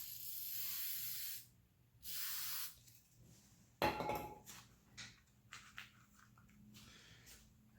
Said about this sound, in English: add a little bit more spray adhesive.